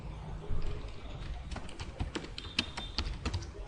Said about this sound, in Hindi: कमांड टाइप करते हैं सिलेक्ट